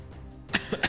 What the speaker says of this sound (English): Yeah, sorry if I'm coughing.